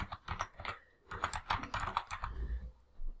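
Steady typing on a computer keyboard, bursts of quick clicky keystrokes with brief pauses between, close and moderately quiet with no talking.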